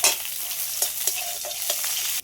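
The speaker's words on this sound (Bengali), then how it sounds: "এইবার আমি অল্প করে একটু পেঁয়াজ কুচি দিয়ে দেবো, দিয়ে সব একসাথে আরেকটু ভেজে নেব" Chopped onion dropped into oil with a panch phoron tempering for a fish curry, giving a loud, constant close sizzle with a few stirring scrapes, and no talking.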